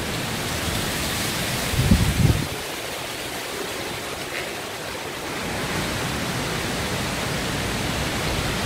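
Heavy tropical rain of the Central American rainy season pours down in a dense, constant hiss, broken once early on by a short, louder low rumble before the steady downpour resumes.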